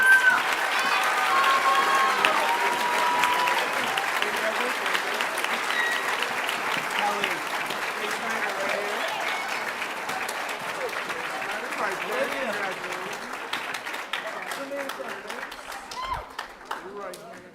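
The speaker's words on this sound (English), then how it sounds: "Please give them a round of applause." An audience at a middle school eighth grade promotion night applauds with sustained, dense clapping that stays even for a long stretch and then tapers off near the end.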